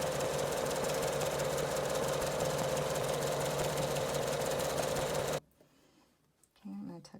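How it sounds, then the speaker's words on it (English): A sewing machine runs a zigzag stitch along a fabric edge while a reversible surgical cap is made, with a loud, fast, steady mechanical rattle for about five seconds before it stops and a voice speaks briefly. "And then I still just zigzag right to the edge."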